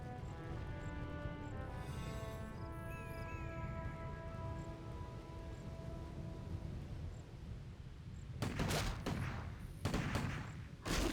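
Several rifles firing in a Warcraft 3 Undead vs Human match, with short bursts of battle gunfire coming late and standing out over a steady bed of game music and ambience.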